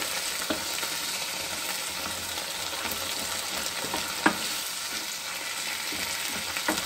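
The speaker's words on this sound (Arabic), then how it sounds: "غندير كذلك شويه ديال الزيت النباتي ديال الذره، غنحرك هاد العناصر" Ingredients for a fresh-pasta lasagna are stirred in corn vegetable oil, a steady soft sizzle and crackle of frying with occasional sharp clicks of the spoon against the pan, no voices.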